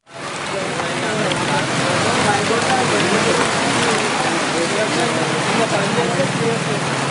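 Heavy rain lashes Hyderabad during a windy storm, a loud, unbroken roar of downpour that rises in quickly and then holds steady and close.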